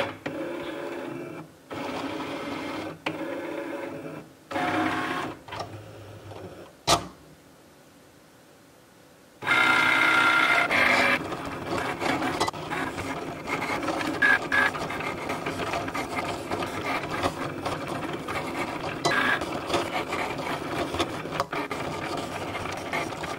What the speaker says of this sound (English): you can hear it there, that's doing the calibration